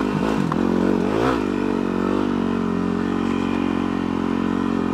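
Dual sport motorcycle with a 50-50 dual sport rear tire riding a wet off-road trail, its engine loud and close with a couple of quick revs early on, then a steady throttle drone without talking.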